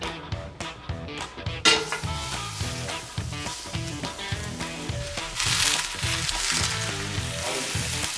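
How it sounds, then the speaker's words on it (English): Coyote meat searing in a cast iron skillet over a gas flame, a crackling sizzle mixed with clinks and scrapes of utensils against the pan, close up and without speech. "Then they'll let you sear your meat."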